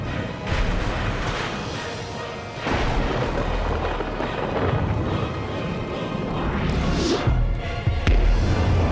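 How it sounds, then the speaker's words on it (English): The Judgment Bolt lightning spell in Final Fantasy XV, heavy booming crashes and crackling blasts layered over a dense roar, with several sharp strikes rising out of the continuous loud barrage. "It's Lightning Moses again. Judgment Bolt."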